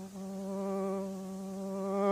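In a comedy skit, a human voice imitates a buzzing flying insect with a steady, nasal, humming drone that rises slightly and holds for about two seconds, close and clear.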